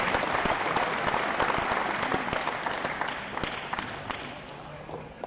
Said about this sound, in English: we have a big round of applause for our generous sponsors